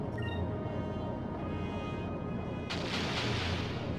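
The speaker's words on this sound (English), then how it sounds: "A little bit of a sub cannon to get him started" Sub cannon fire in Skies of Arcadia Legends, opening with a ringing metallic tone over a rumbling roar, then a sudden loud blast that lifts into a broad, sustained rushing boom.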